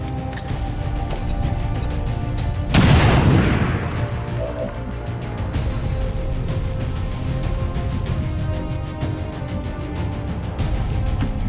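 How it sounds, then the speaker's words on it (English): A grenade goes off in XCOM 2: War of the Chosen as one loud, sudden blast a few seconds in, then fades back into a steady backdrop of game ambience and faint clicking. "Throwing grenade"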